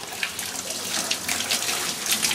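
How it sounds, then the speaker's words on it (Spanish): Water runs steadily from a tap onto hands being washed, a close continuous hissing splash with small uneven surges, and no talking. "me estoy lavando las manos"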